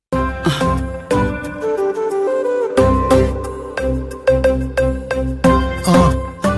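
A phone ringtone plays loud and alone, a bright repeating melodic tune with a steady rhythm that runs throughout.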